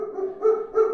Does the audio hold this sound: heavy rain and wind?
no